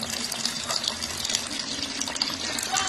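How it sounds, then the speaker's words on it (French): Dirty water runs from a household tap in Congo, a soft, steady splashing gush heard close up and fairly quiet, with no talking. "Vous voyez l'eau sale qui coule dans notre robinet"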